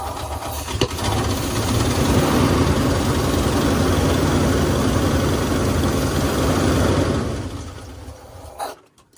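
A car engine idling rough and misfiring, as if one spark plug is not firing: a loud, steady, uneven low rumble held close for several seconds, then cut off near the end.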